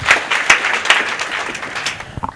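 Brief applause at a family memorial service, a short burst of hand claps that thins out and fades over about two seconds.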